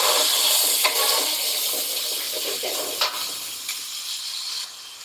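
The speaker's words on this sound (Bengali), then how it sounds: "এবার ওই ব্লেন্ডারের জারটা দিয়ে জল করে দিয়ে এবার ভালো করে কষিয়ে নেব" Water from a blender jar pours into onion-garlic masala frying in a pan, a bright steady hiss and sizzle with a few small pops as the liquid hits the hot oil, gradually easing off.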